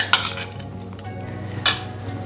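A utensil stirs mayonnaise paste with salt and pepper in a bowl, giving two sharp clinks against the side with soft, quiet mixing between them and close to the microphone.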